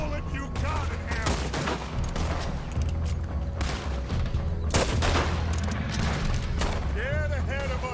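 Dense gunfire from Red Dead Redemption 2 rattles loudly and continuously, with rapid overlapping shots and booms throughout, under shouting voices and a whistling high tone near the end.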